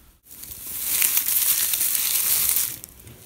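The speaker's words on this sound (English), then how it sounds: "Squish the shredded paper" Shredded paper is squished up close, a loud dense crunching and crinkling that swells after a brief gap and holds for about two seconds before fading.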